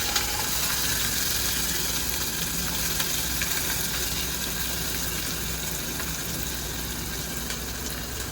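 Chopped onion added to hot tempering oil in a home kitchen sizzles and crackles loudly and steadily throughout, a dense, even frying hiss with no talk.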